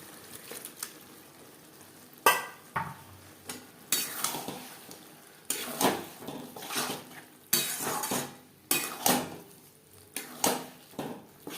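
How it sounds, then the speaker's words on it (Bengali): Pabda fish curry with peas is stirred in a pan over low to medium flame, a close sizzle interrupted by repeated rhythmic scrapes and knocks of a utensil against the pan, with no voices. "লো টু মিডিয়াম ফ্লেমে আরও তিন চার মিনিট নাড়াচাড়া করে নেব"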